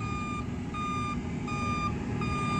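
Concrete truck reversing on a building site, its backup alarm beeping in regular evenly spaced tones, four beeps over a steady engine rumble.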